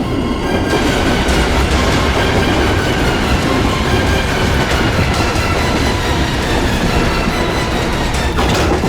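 A moving train rolls along, its loud, steady rumble and clattering wheels filling the whole stretch, with faint high squeals in places and no voices.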